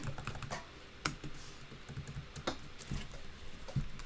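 Computer keyboard typed on while writing C++ code, quick irregular clicks and clacks at close range, with short pauses between bursts and no talking.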